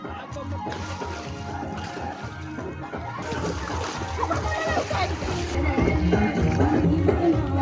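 Water splashes and sloshes steadily in a swimming pool against a busy background of voices and music at a pool party, growing louder toward the end.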